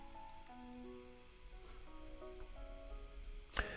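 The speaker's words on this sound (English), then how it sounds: "a sudden downpour begins to fall from the darkened sky" Sudden downpour of rain in the Chaos Zero Nightmare video game, a faint steady patter of rain under soft melodic game music, with a brief sharp hit near the end.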